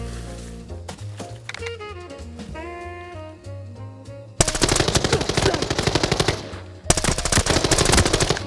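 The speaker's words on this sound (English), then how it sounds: "It's an AK-12." An AK-12 rifle fires in the Arena Breakout Infinite shooter game: loud, rapid automatic bursts break in suddenly after a stretch of tonal effects, with a brief gap before a second sustained volley.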